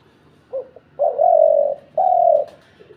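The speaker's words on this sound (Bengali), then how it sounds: "সুন্দর বালি বালি বালি বালি ডাক দিয়ে ঘুঘু নামায় ফেলা গেছে।" A wild dove calls close by, a short coo followed by two long, smooth cooing notes, clear and alone over faint background hiss.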